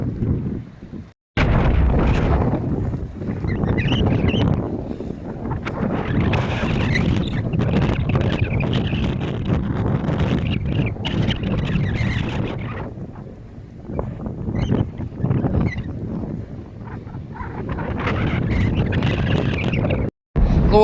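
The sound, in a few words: strong gusty wind on a beach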